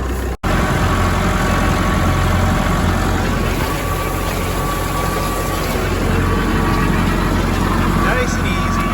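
Tractor engine running at low RPM while pulling a new Vermeer TM610 hay mower, a loud constant rumble throughout with a voice speaking over it.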